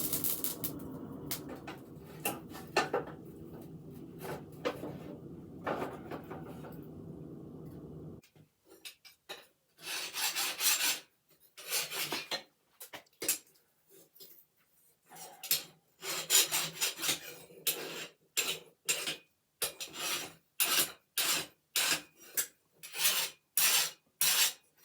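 Steel file rasping across a hardened, freshly quenched knife blade for a training knife, rough continuous strokes at first, then a run of short, evenly spaced scrapes that grow faster and more regular, close and fairly loud.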